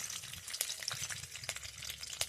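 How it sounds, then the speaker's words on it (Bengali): Curry leaves frying in hot oil alongside lightly fried dal while cooking lemon rice: a crackling, spitting sizzle with sharp pops scattered throughout, close and fairly quiet, with no voices. "এরপর আমি কারি পাতা নিয়েছি, কয়েকটা কারি পাতা দিয়ে দেবো।"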